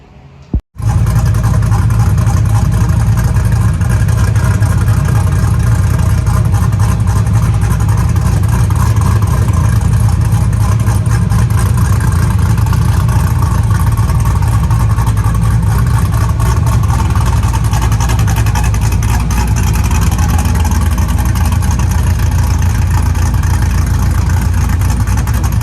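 An LS-swapped 1987 Monte Carlo SS roars loudly and continuously on a dyno after a sharp click at the start, its engine holding a heavy, even drone for the full length.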